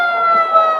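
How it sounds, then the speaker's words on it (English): A siren sounds as a steady, loud wail, held without a break by fans in the stands at a North Knox Warriors versus North Daviess Cougars high school varsity football game. "I guess North Knox decided to bring their own siren"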